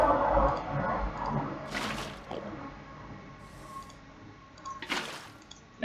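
Water going into an extractor in the Minecraft Heroes Expansion mod, a couple of short splashy gushes and squishy liquid bursts separated by quieter dripping gaps.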